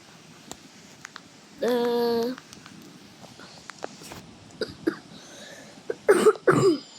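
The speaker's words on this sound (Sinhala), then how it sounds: "sorry friends කැස්සක් ආවා" A few short, sharp coughs burst out near the end, close and loud, after a sustained tonal sound and scattered clicks and knocks.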